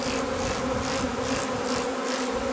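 A honeybee swarm gives off a dense, continuous buzzing drone, close and loud, with a gently pulsing texture throughout and no voices.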